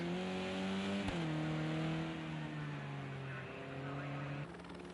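Renault touring car lapping Imola in a racing video game, its engine note holding a steady harmonic drone with shifts between gears, braking and sliding, loud and continuous alongside commentary.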